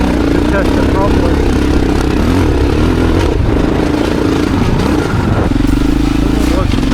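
A KTM 640 adventure motorcycle rides down a rough outback side road, its engine droning steadily and loudly up close throughout, with a voice talking over it.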